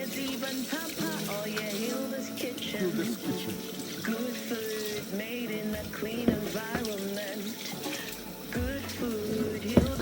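Water runs steadily from a tap while a large fish is washed in salty water, a continuous close splashing with irregular sloshes and clatter from handling.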